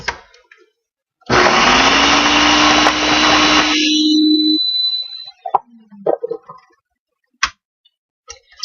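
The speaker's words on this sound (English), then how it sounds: "come on, blender. It's being difficult." A blender blending bananas with coconut water roars loudly for a few seconds, then cuts out, followed by scattered clicks and knocks.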